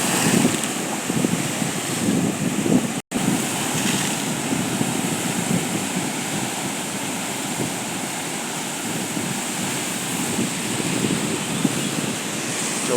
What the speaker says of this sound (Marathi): केवढे लाटा आहेत बघा